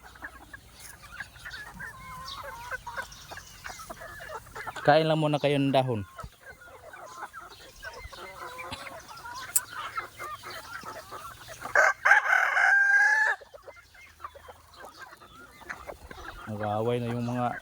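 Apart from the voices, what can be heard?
chickens clucking and rooster crowing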